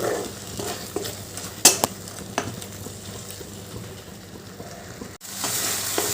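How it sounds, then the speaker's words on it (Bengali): A spoon stirs crushed cardamom through a pumpkin and milk dish cooking in a pan, with soft scraping, a few sharp clinks against the pot and a low sizzle throughout. "এবার ওই থেঁতো করা এলাচটা দিয়ে দিলাম দিয়ে একটু ভালো করে মিশিয়ে দেব"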